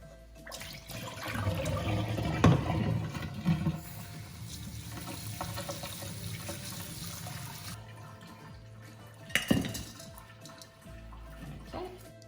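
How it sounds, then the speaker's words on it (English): Kibbled wheat being washed: water sloshing and splashing in a container, with a steady trickling wash and a few louder splashes, close by and without talk. "we're going to keep washing the wheat until the water becomes clearer"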